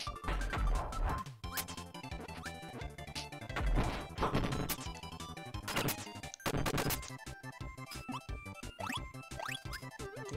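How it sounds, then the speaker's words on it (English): Kirby video game play with loud, busy smashing and whacking hits as enemies are knocked out, with squeaky cartoon effects over constant game music. "Can you stop smashing these enemies?"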